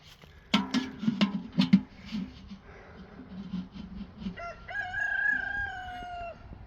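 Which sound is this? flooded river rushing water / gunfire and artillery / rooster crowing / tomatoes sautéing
rooster crowing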